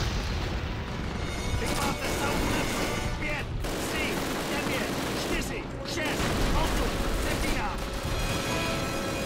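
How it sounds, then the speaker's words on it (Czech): Machine gun fire in the video game Call of Duty: United Offensive rattles in dense, continuous bursts mixed with booms and battle noise, loud and unbroken throughout. "když prostě tady po mě střílí kulomet"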